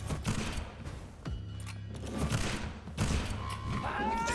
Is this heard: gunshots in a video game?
yes